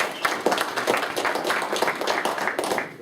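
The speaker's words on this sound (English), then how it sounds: "Big applause" At a Scouting roundtable meeting, a roomful of people applauds the rise in Cub Scout numbers, giving dense, even clapping that stays at a moderate, steady level for the whole stretch.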